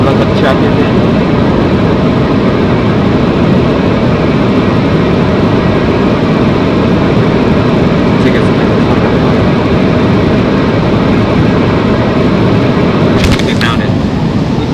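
A constant loud roar fills the cabin of an American Airlines passenger jet in flight. The broadband engine and air noise holds steady the whole time, with faint voices and brief small clicks mixed in.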